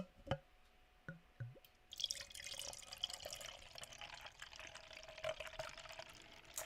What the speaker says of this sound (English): The theatrics of a 5-minute pour into a wine glass.